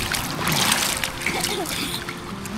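People splash and slosh while swimming in the sea, an elderly man and a child among them, a steady close wash of water that runs under voices throughout.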